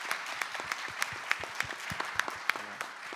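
Applause for a panel at the close of a discussion, a modest audience clapping with scattered sharp individual claps standing out over a steady patter, fairly close and continuous throughout.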